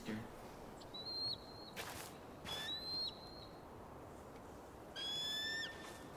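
Bald eagle calls in the Tell Me Why video game: several thin, high whistled cries repeat across a few seconds, some with rising trills, set against a soft steady ambient background.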